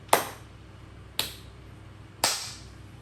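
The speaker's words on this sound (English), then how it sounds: "When you say it, clap your hands." Three sharp hand claps, spaced about a second apart, each a crisp snap with a short decay, heard alone against a quiet background.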